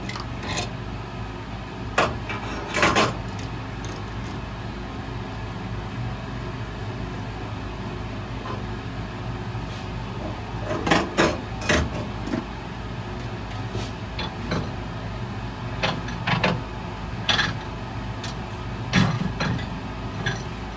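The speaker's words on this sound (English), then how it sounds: "Now we've got to remove this chuck." Metal chuck taken off a lathe in a home workshop, with sharp, scattered metallic clinks and knocks over a steady low background rumble.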